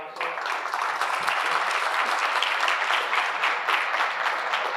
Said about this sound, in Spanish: agradezcámosle con un aplauso.